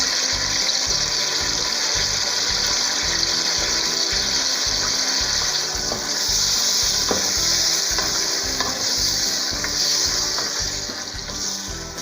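Tomatoes and fish sauce sizzle in a pan for a mung bean stew, a loud steady frying hiss with stirring scrapes, close and continuous with no talking.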